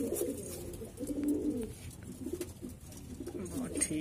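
Lal Jeere breeding-pair pigeons coo in soft, repeated low throaty rolls close by, overlapping one another while someone talks in the background.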